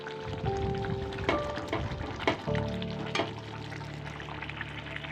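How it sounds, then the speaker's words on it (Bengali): Shrimp going into a hot pan for a pointed gourd and shrimp dish, with a steady frying sizzle, a few sharp clatters and a humming tone underneath. "তো চিংড়ি মাছগুলো এখন ছেড়ে দেবো।"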